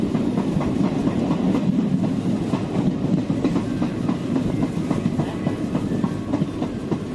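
An Indian Railways passenger train runs along the track near a forest, a loud continuous rumble with rapid clickety-clack of wheels over rail joints, heard from inside the carriage.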